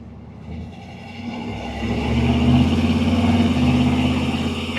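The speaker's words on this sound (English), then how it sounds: "That side exit exhaust sounds very nice." Pickup truck with a side exit exhaust and a lopey idle, revving in slow parade traffic; a deep low engine rumble builds after the first two seconds and holds steady and close, with no talk.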